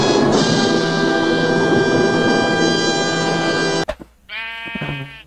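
A goat in Minecraft gives one short, wavering bleat near the end, right after a long, loud, steady stretch of game noise cuts out abruptly.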